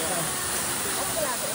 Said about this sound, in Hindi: यही हो वाटरफल